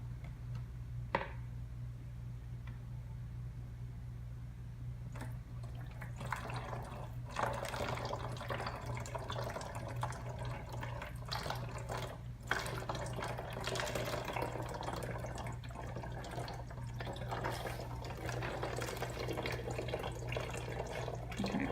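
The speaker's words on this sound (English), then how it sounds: "going to pour in a cup of water at a time" Water poured from a jug into a container a cup at a time during a children's science lesson, a steady trickling splash with a constant low hum beneath it.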